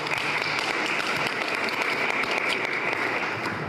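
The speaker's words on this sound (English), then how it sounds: "please give her another round of applause" A community conversation audience gives a new editor a sustained round of applause. Dense, even clapping fills the room at a steady level throughout.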